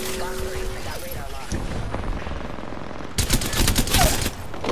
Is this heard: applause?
no